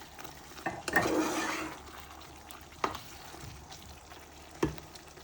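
Garlic and vegetables frying in a pan for pasta while a utensil stirs them, a steady sizzle with a few scraping clinks of the spoon against the pan, close up and without speech.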